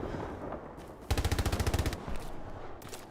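A burst of automatic suppression gunfire in the Hell Let Loose war game, a fast string of about a dozen loud rounds lasting under a second, with quieter battlefield ambience before and after.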